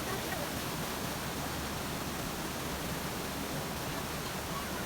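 The Rhine Falls at Schaffhausen, Switzerland, Europe's largest waterfall, roars as a steady, loud, broadband rush of falling water, continuous and unbroken throughout.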